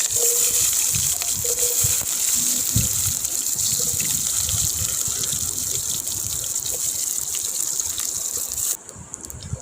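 Chopped onions and mustard seeds sizzle and crackle steadily in hot oil for a Tamil-style crab gravy, a continuous close hiss with scattered pops that runs throughout.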